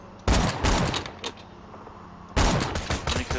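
Shotgun buckshot blasts in Borderlands 2, two loud close bursts with a dense rattling tail, separated by a brief lull.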